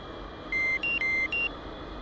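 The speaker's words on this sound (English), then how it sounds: "We'll do the seat so it's not beeping at us as well." Seat warning beep in a T-45C cockpit within a flight simulator game: four short electronic tones in quick succession with alternating pitch, clear and fairly loud over a low steady hum.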